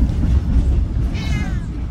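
A cat gives a short drawn-out yowl while travelling, heard over a deep rumbling rail-like background, fairly close and loud.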